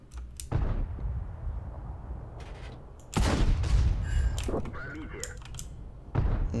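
Tank cannon fire in a tank video game: several heavy, loud booming blasts spaced a few seconds apart, each leaving a rumbling tail, with faint talk in between.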